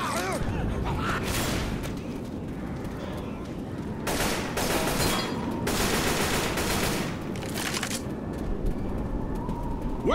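Rapid automatic gunfire in Left 4 Dead, a dense fusillade of shots with louder bursts in the middle and at the end, under shouting voices.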